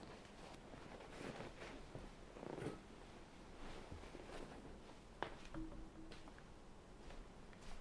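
A cat purring nearby, a soft, low and steady rumble that is faint and quiet, with a few small rustles over it.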